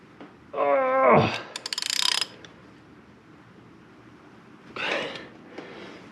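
Ratchet on a 2002 Chevy Corvette head bolt being turned a further 90 degrees during head gasket replacement, a close run of rapid metallic clicks with a rasping pull, a short pause, then another burst of ratcheting.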